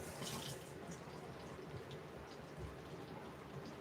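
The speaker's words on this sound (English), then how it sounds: "I'm going to go ahead and rinse them off." Tap water running into a kitchen sink while herb stems are rinsed, a steady close splashing hiss that continues evenly throughout.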